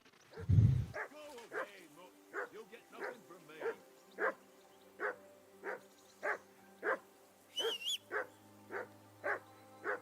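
A dog barks and yelps repeatedly in Kingdom Come: Deliverance 2, a steady string of sharp, evenly spaced barks with a low rumble at the start and a soft game ambience underneath.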